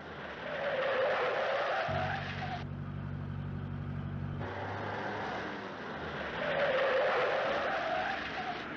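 A car driving fast in a film chase, its engine roaring and tires squealing in sustained bursts, with a low steady vehicle drone in the middle and rising skid noise at the end.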